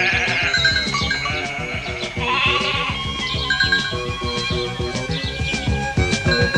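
Cartoon sheep bleat repeatedly in a steady stream of overlapping, wavering calls over a busy, loud background, with no voices.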